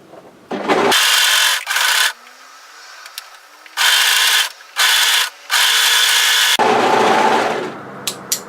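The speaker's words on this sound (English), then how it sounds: "this overlocker blade will act nicely towards tidying all these threads we have up" Overlocker trimming loose tacked threads on a dress sleeve: bursts of loud, buzzing motor whir with a rasping cut, starting and stopping several times with short pauses between runs.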